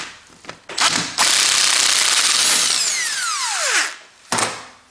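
On a BMW 3 Series (E46/E90), an electric impact driver removes an alternator bolt: short whirring bursts, then one loud sustained buzzing hammer that rises and winds down, followed by another brief burst, close up.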